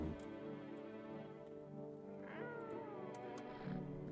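Cat meowing and caterwauling close by, a drawn-out wavering yowl followed by a shorter cry near the end, over a faint steady background hum with no speech.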